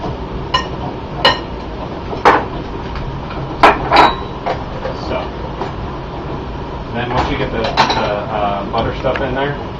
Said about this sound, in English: Then you just sort of mix it in.